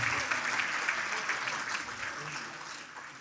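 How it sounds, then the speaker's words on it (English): Audience at an annual jazz-themed fundraiser applauding, a dense continuous wash of clapping that holds steady and tapers slightly at the end. "Let's give a big round of applause to all of our donors thus far."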